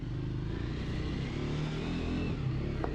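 A 2025 Triumph Scrambler 400 XC motorcycle pulls away, its engine a steady, close, mid-pitched drone with slight rising revs and buzzing harmonics throughout, with no talk over it.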